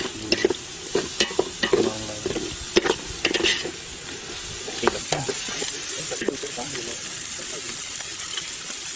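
Mustard seeds splutter in hot oil in a village kitchen while cooking coconut milk biryani, a busy crackling sizzle with sharp pops and stirring scrapes, and people talking over it.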